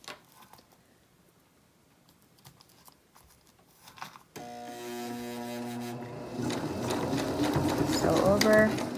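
A sewing machine stitching a fabric face mask, starting after a few quiet seconds and then running in a steady, loud mechanical whir that rises slightly toward the end, close by, with no talking over it.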